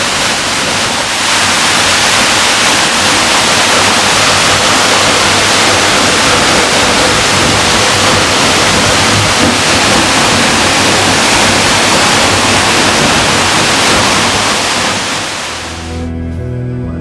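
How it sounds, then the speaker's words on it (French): Skógafoss waterfall in Iceland, about 60 metres high, heard from behind the falling water: a loud, continuous roaring rush that holds steady before cutting off near the end. "Les chutes de Skogarfoss, hautes de 60 mètres."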